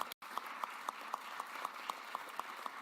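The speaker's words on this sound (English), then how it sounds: "Give New Day to Stop Trafficking program a huge round of applause." Audience applause at a live local broadcast event in Philadelphia: steady, dense clapping that runs throughout after a brief dropout near the start, with small regular accents.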